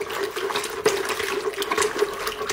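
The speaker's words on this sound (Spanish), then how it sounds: "Se bate bien la mezcla para que se mezcle el agua y el yeso." Plaster and water being whisked together for a 3D panel mould, a steady wet churning and sloshing that runs the whole time at close range, with a few sharper splashy knocks partway through.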